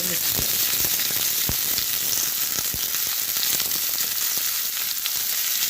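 Urad dal and garlic fry in hot oil with a dense, steady crackling sizzle, broken by scattered sharp pops and light stirring clicks close by.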